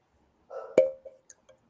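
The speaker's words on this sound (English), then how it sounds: "Very nice cork pop." A cork pops from a bottle of rye whiskey: one sharp, close pop, then a few small clinks and a faint ring that die away quickly against near silence.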